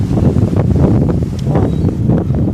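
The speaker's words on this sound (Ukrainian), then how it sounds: "У нас сьогодні такий вітер." Gusty wind in a garden buffets and rumbles close to the microphone, a continuous low roar with shifting surges.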